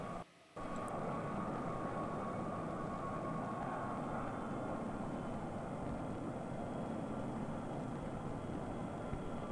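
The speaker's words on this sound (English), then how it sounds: "Planes with propellers, and jet planes from all over the world fly in and out of New York's" Jet airplanes at a busy 1950s New York airport, from an old film soundtrack: a steady, loud engine roar that fills the whole stretch after a brief dip at the start, with no talk over it.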